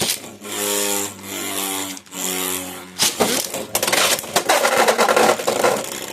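Beyblade X tops Reaper and Wizard spin in a stadium: steady whirring hums for a few seconds, then loud rattling, scraping clashes as they collide, near and busy with no talk.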